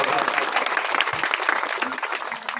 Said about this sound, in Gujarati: એની દયાથી એને વંદન કરો અને તાળીઓના ગડગડાટથી વધાવો.